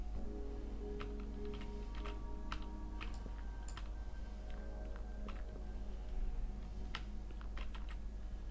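Someone types on a computer keyboard, a steady patter of close, light key clicks with a few sharper taps over a low electrical hum.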